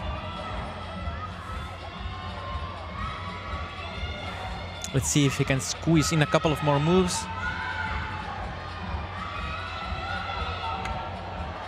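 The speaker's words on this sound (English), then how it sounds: "The crowd is going wild." At a youth climbing competition in Helsinki, a crowd bursts into a few seconds of loud cheering and yelling behind a commentator's continuous talk.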